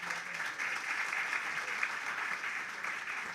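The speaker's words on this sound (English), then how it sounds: "Let's do one more round of applause." A crowd applauds at a housing ministry ceremony marking the handover of keys, with sustained, even clapping at moderate volume.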